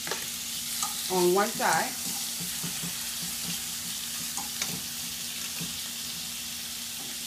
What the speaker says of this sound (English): this oil is hot. I'm going to turn it down a little bit, and I'm going to put the pork